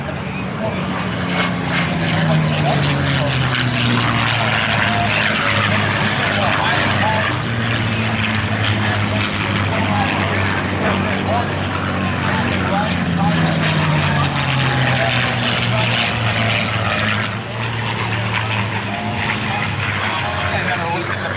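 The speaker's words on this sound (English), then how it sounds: "Another look at the P-51 with that iconic Packard Merlin engine." A P-51 Mustang with its Packard Merlin engine roars past at an air show, a loud sustained propeller drone whose pitch sweeps down as it passes, rising and falling twice across the clip.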